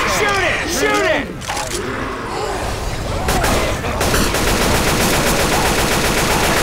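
Loud, rapid automatic gunfire in the video game Left 4 Dead 2, with bursts of shots and rattling fire continuing throughout.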